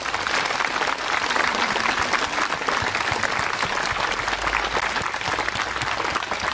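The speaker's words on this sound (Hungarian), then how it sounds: "Let's give God a round of applause to God." A church congregation claps together in a sustained, dense round of applause, steady and fairly loud throughout, with no speech over it.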